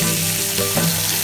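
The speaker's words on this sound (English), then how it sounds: "Flip chops and sear. Also sear the fat." Pork chops with their fat left on searing in a hot pan, a loud, continuous close-up sizzle and fry with no voices.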